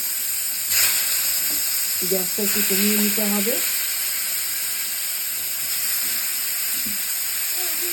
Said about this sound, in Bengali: এবার আমি একটা একটা করে বেগুন ছেড়ে দিলাম কড়াইয়ের মধ্যে।